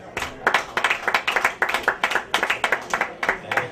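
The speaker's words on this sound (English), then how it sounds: "Give yourself a round of applause again." A small comedy-show audience in Crown Point applauds, a ragged run of distinct, fairly close hand claps with no one speaking over it.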